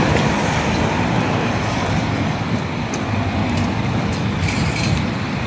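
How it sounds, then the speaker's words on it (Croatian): A tram rolls by in a city square, a sustained rumbling rail-and-wheel roar holding steady and fairly loud throughout, blended with surrounding street traffic. "Mislim da je tramvaj."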